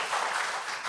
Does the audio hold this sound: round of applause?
yes